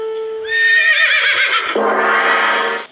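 A horse neighs loudly and close, a long quavering whinny that rises, wavers and ends in a second strained burst, staged as a radio drama sound effect with no voices over it.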